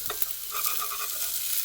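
An egg fries in oil on a griddle, giving a steady bright sizzle and crackle with occasional spatters, close and continuous, with no talking.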